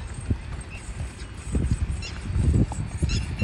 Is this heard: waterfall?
no